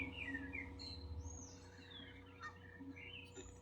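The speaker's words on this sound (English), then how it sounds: "relaxing park ambiance, birds, water, and sunshine for stress relief" Birds chirping in a relaxing park ambience, several bright tweets and short calls scattered over a quiet steady background hum, soft and fairly distant.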